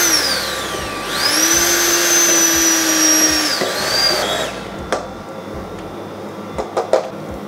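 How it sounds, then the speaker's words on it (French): A blender or immersion mixer whirs through hot caramel to make it smooth and creamy, a loud high motor whine for about three seconds that winds down, followed by clatters and knocks. "on va venir mixer le caramel"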